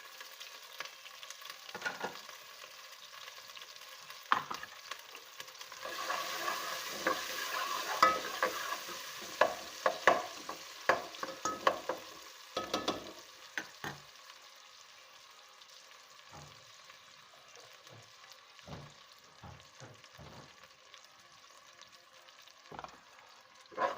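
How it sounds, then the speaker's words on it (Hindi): Small onions frying in a pan for a white lobia curry, a soft continuous sizzle with repeated stirring scrapes and taps of a spoon, close but fairly quiet, no voices. "अब मैं इसमें डालूँगी प्याज।"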